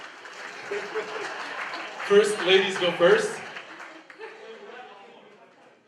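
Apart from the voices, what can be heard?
audience applause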